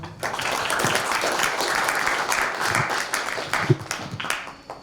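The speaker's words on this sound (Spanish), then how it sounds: "Fuertes aplausos" Loud, sustained applause from a conference audience fills the hall, dense clapping rolling steadily throughout with a few sharper individual claps standing out near the end.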